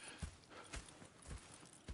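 Faint, steady hoofbeats of a walking horse, a regular clip-clop rhythm against a soft background hiss.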